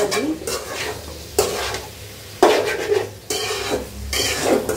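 A single egg frying in a pan with a steady broadband sizzle, interrupted by several loud scraping stirs of a spatula against the pan, close and continuous throughout.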